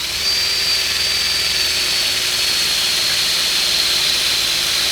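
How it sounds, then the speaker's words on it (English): An electric drill bores a hole into the body of a Les Paul Junior guitar, giving a loud, continuous high-pitched whine that holds steady throughout. "you can take out the drill bit and you can put it in the hole"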